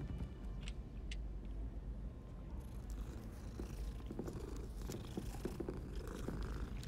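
A cat purrs in the video game Hogwarts Legacy, a soft, continuous low rumbling vibration that stays steady and quiet throughout, with no voices.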